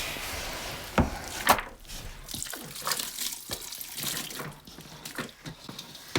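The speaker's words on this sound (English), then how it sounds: "I'm just gonna pack it into this 5-gallon bucket that's clean." Wet, salted root ferment being packed by hand into a clean 5-gallon bucket, with soft squelching, scattered sharp knocks and thumps against the container, and a steady background of rustling and shuffling.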